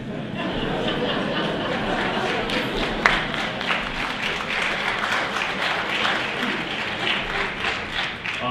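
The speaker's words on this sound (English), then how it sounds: "I'm not sure why you're clapping" Lecture audience clapping in a hall, a steady, dense wash of many hands lasting throughout, fairly loud and continuous with a brief sharp clap standing out partway through.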